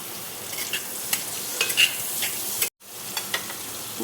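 Butter melting and sizzling in a kadai, an even close hiss with several sharp spatula clicks and scrapes, briefly cut off midway and then continuing; no one talks.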